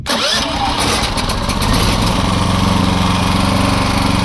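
A small, quiet 3.5 kW inverter generator starts up and settles straight into a steady, even running hum that stays loud and close throughout.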